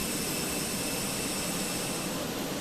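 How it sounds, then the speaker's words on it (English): Jet engines of a TAP airliner spooling up at start on the Lisbon to Porto route, a steady loud broadband roar with a thin high whine, continuous and close, with no talk. "You can start the engines in sequence."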